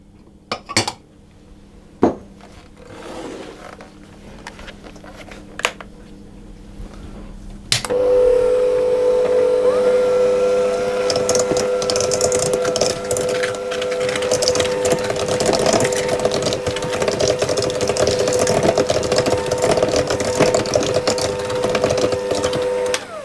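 Steady whirring of an electric mixer creaming sugar and creme fraiche in a bowl, starting abruptly after a few sharp knocks and clinks and running continuously, fairly loud, with no talk.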